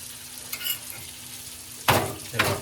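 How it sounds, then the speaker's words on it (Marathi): Pomfret fish fries Malvani style in a pan, a quiet low sizzle that swells into two louder sputtering bursts near the end, heard close with no talk. "मासे शिजत आहेत"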